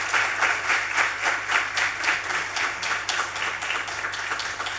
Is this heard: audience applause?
yes